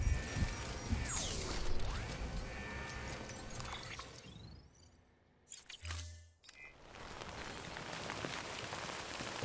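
Steady rain in Death Stranding, a broad hiss of drops falling on surfaces that fills most of the stretch, thins briefly to near quiet with a low thump, then returns at full strength.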